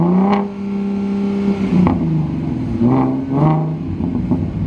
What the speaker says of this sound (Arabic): هاي صوت الطقطقه احبه